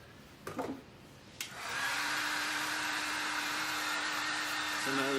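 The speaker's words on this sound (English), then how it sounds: "So Mo's drying his stencil" A hair dryer switches on and blows a steady, close whooshing hum while drying a stencil, with a few brief sounds before it starts and a slight shift near the end.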